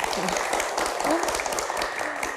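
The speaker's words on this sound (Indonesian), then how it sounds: "Tepuk tangannya mana?" Studio audience of university students applauds on a television Q&A set, a steady dense wash of clapping that carries on throughout, with voices audible under the noise.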